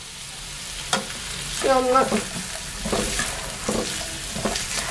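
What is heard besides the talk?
chopped large onion frying in pan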